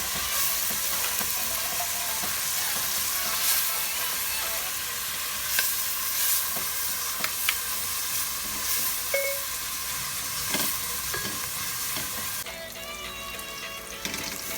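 Sopas ingredients sizzle and fry in a pot as a utensil stirs them, with scraping clinks and small knocks over a steady hiss, close and moderately loud, then a quieter stretch near the end.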